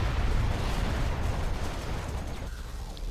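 Scudstorm missile strike explosions in the Generals Evolution strategy game: a dense, rumbling wash of blasts, loud at first and slowly fading over a few seconds.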